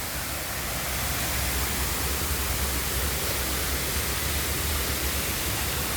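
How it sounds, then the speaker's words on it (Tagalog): Steady broadband rush of a waterfall in Hong Kong Park, a continuous full wash of falling water with no clear voices, even and loud throughout. "Tignan yung falls nila, oh."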